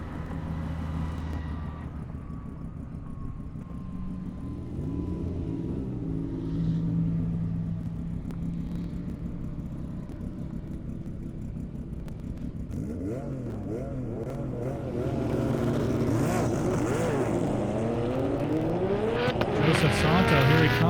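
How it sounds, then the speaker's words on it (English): Porsche race car accelerating down an airstrip at an airstrip attack event, engine roar building louder toward the end with shifting pitch sweeps, close and sustained, a voice talking underneath. "That fast Porsche, fastest one of the event coming up."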